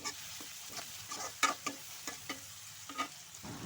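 Lightly salted onions fry in a pan, a soft sizzle broken by a series of scraping stirs at irregular intervals, close but fairly quiet, with no talk.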